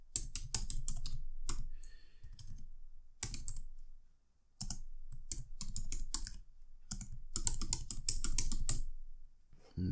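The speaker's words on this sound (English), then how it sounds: "So let's type that in." Rapid typing on a computer keyboard, close and clear, in dense bursts of clicking keys separated by short pauses, with no talking.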